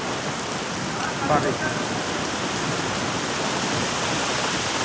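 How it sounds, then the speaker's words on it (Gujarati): Steady heavy rain with strong wind hisses continuously, with a rushing, wind-blown quality and a brief faint voice near the start. "ભારે પવન સાથે વરસાદ વરસી રહ્યું છે"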